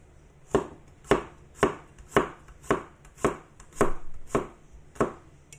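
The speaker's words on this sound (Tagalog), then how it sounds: "And then, ikat ko na yung garlic." A knife cuts garlic on a cutting board in about ten crisp, evenly spaced chops, close and clear with no talking.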